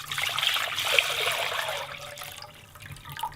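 Pickling brine of vinegar and water is poured into jars packed with garlic scapes and peppers, a steady splashing pour that thins to a trickle near the end.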